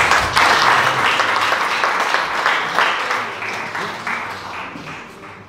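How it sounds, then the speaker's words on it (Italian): An audience at a book presentation in Sersale applauds after a song, a dense, steady round of clapping that begins loudly and slowly tapers off, with no speech over it. "Grazie, un applauso."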